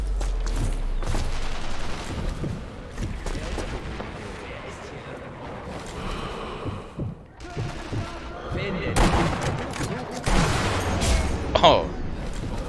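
Gunfire in the video game Sniper Elite V2 sounds as repeated loud booming shots and thuds within dense game noise, with a person talking over part of it.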